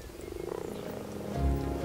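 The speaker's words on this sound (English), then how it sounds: "such as this common toad" Common toad croaking at a garden pond during spawning season, a soft low croak rising near the end over a faint, busy background.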